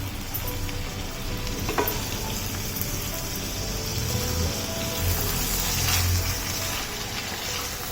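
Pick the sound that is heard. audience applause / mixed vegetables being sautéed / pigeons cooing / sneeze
mixed vegetables being sautéed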